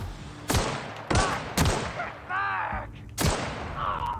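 Gunshots in The Outer Worlds, four loud sharp blasts spaced unevenly, each with a ringing tail, with clanking weapon handling sounds between them.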